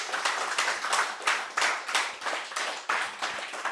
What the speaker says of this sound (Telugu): ఒకసారి మేడంకి ఒకసారి క్లాప్స్ కొడదామా?